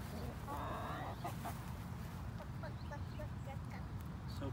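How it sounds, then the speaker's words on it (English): A skinny chicken clucks in short bursts among other fowl, heard fairly close over a steady, noisy outdoor background. "look at this little skinny chicken over here"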